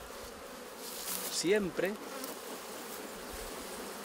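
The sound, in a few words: honey bees at a beehive during inspection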